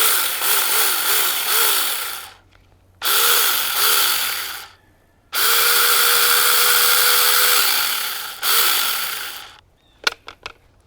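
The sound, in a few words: Tomyvic 6-inch mini chainsaw cutting cedar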